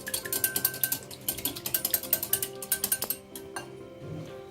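An egg whisked in a bowl for chili fish batter: a rapid, steady run of light clinking taps of the whisk against the bowl, close and clear, stopping after about three seconds.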